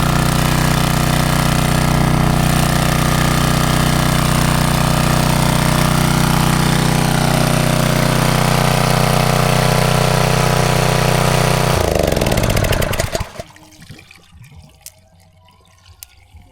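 A new two-stroke engine on a jungle farm in Leyte runs at a steady, loud idle, smoking as its storage oil burns off, then cuts out abruptly near the end, leaving quiet background.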